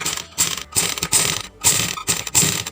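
A sewing machine stitches piping onto a blouse back-neck patchwork design, running in short mechanical bursts of rapid clatter separated by brief pauses, close and fairly loud with no talk.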